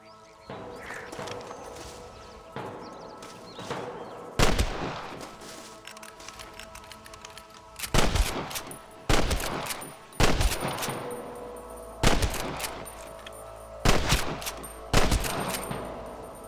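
Gunfire from snipers and a gunfight in the Western video game Red Dead Redemption: loud, sharp shots crack out at irregular intervals, about nine blasts over a continuous background of game ambience and music.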